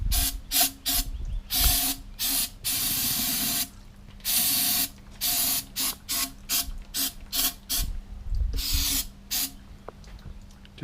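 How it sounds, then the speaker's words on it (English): Aerosol cleaner sprayed in repeated short hissing bursts inside a Honda Goldwing motorcycle fork tube during a fork seal replacement in a garage, a steady rhythm of close, loud sprays separated by brief pauses. "And I should spray this down inside."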